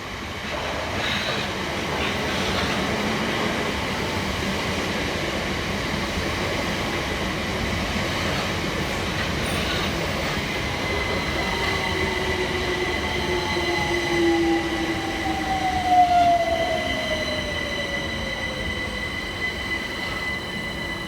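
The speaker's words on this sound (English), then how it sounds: "Arriving next into the station is 376007 and 376030 with the 1829 Southeastern service from London Charing Cross through to Hayes." Southeastern Class 376 electric multiple units pull into a station on the Hayes line, a steady rumble of train running under long, rising wheel squeals and whining tones that swell toward the end, with no talk.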